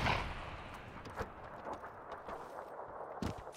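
Gunfire from a powerful gun in PUBG, a few sharp shots ringing out at moderate distance over a low rumbling background, with no voices.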